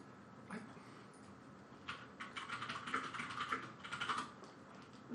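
Rapid typing on a computer keyboard, close and fairly quiet, with scattered keystrokes building into denser bursts of clicking toward the end.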